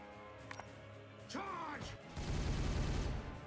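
Gunfire in the chess-based video game Regicide: after a brief mechanical rattle and a rising, wavering whine, a dense, loud burst of shots fills the last second or so without any talking.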